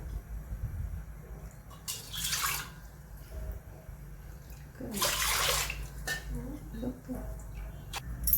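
Water pours into a pot on the gas stove for chakli dough, two bursts of splashing filling several seconds apart over a quiet kitchen background, with a person speaking between them.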